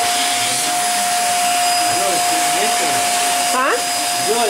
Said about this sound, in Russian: О, пылесосик у тещи.